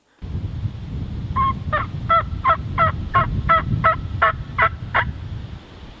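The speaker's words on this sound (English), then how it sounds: "Then he gobbles again." A wild turkey gobbles during an opening-morning spring hunt, a single loud rattling gobble of about ten rapid pulses heard fairly close over low outdoor background noise, no talking.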